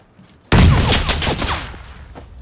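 A sudden loud burst of rapid, close gunfire in PUBG Battlegrounds squad play, holding for about a second and then trailing off with faint echoes.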